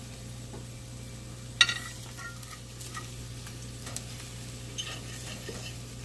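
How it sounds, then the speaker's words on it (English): Roasting red potatoes stirred in a hot pan make a low, steady sizzle, broken by a sharp clink of utensil on metal early on and a few lighter taps afterward, close and quiet without speech. "So I'm just going to stir them around"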